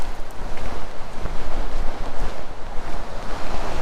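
Low Force, a waterfall on the River Tees, produces a steady rushing roar of falling water heard from nearby, with wind buffeting the microphone and no voices.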